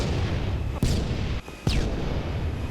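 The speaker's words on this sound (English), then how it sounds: "Everybody down! I'm throwing a grenade!" Explosive game blasts from a grenade thrown in Halo Reach: two sharp booming bursts over a steady loud din of battle noise, the second followed by a falling whistle-like tail.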